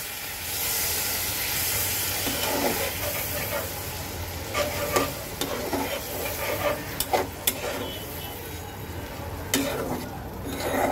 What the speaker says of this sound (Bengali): এটা দিয়ে আমি এখন কষাবো